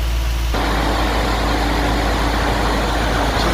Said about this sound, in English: I should unplug the controller for that hydraulic fan so you guys can hear how hard out that goes.